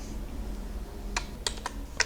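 Keys on a computer keyboard are tapped in a few quick, close clicks, starting after a quiet moment, with a short flurry of presses near the end.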